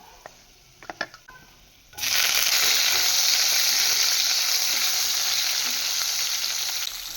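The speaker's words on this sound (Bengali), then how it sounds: "টমেটোটা একটু ভাজা ভাজা করে নেব টমেটোটা ভাজা ভাজা হয়ে গিয়েছে" Chopped tomato hits a hot pan with ginger and whole cumin, setting off a loud, steady sizzle that lasts to the end after a few quiet clinks.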